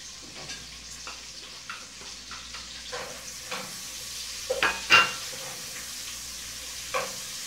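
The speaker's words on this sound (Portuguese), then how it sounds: "Esperar fritar bem a linguiça" Linguiça sausage frying with garlic and onion gives a soft, steady sizzle, broken by scattered utensil clicks and a few sharper metallic scrapes and taps against the pan.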